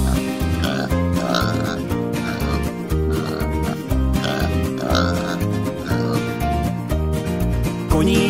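A Slovak children's song with bouncy music and a singing voice that imitates a pig's oinking grunts in a repeated rhythmic run, sitting loud within the full instrumental mix.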